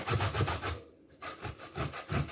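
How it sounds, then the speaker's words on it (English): Rhythmic rasping strokes of a coconut being grated by hand for coconut milk, close and fairly loud, with a short pause partway through before the scraping resumes. "Try grate the coconut?"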